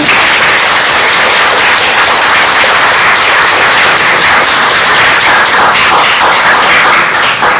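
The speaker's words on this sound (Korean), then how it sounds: "축하의 박수 쳐드릴까요?" A church congregation claps in congratulation, a loud, dense burst of many hands sharply crackling together without pause from start to finish.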